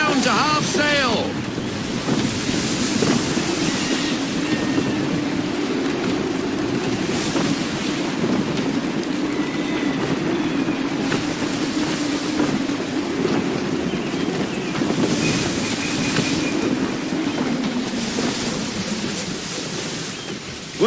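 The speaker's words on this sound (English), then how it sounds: "Gusty winds can be difficult to manage." Gusty wind and surging waves roar steadily around a sailing ship in Assassin's Creed III, a constant loud rush with swells rising and falling for the whole stretch, while faint voices briefly come through.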